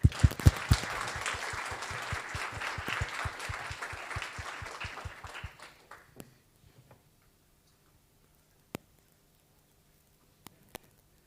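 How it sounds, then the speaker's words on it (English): Conference audience giving a round of applause, rhythmic clapping of a modest crowd that thins out and fades to a few last isolated claps. "perhaps we can give him a round of applause"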